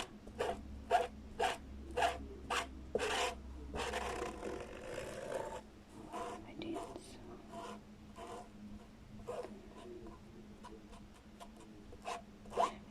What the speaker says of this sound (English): I'm just scraping it off and all my excess goes back into the container